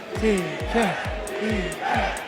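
Esports arena crowd at an MLG Anaheim match chanting "TK" for Team Kaliber, about five rhythmic chant beats in quick succession, loud and reverberant across the venue.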